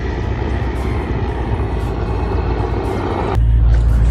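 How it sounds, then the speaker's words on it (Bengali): Helicopter taking off at an air force museum, a loud continuous engine and rotor roar that swells sharply into a deeper, heavier rumble in the last second. "হেলিকপ্টার টেক অফ হচ্ছে গাইস"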